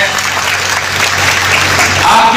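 A crowd applauds loudly at a BJP candidate's political rally in Rath, Hamirpur, with dense, sustained clapping filling the air throughout.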